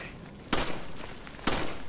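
Two sharp gunshots in Resident Evil 5, about a second apart, each a loud crack with a brief ringing decay over steady game ambience.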